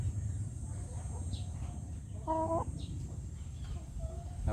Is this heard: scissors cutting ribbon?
no